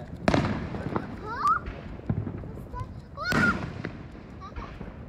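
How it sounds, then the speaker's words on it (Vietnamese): July 4th fireworks exploding in the distance, a few sharp booms and crackling bursts with whistling trails, spaced a second or two apart, while a person nearby talks and other voices murmur. "Đó, pháo bông đó các bạn."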